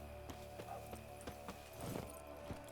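Hoofbeats of Roach, a horse in a video game, galloping in a quick, even clip-clop rhythm with a brief snort, faint and low in level with no talk.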